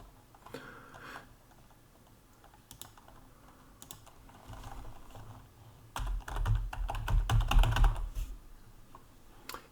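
Keys clatter on a computer keyboard in scattered taps at first, then a dense, louder run of typing near the end, close by with no voices.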